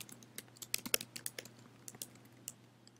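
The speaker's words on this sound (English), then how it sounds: "So now I have to type in my name" Name being typed on a computer keyboard for a classroom lesson login, a quick irregular run of close, light key clicks with short pauses between bursts.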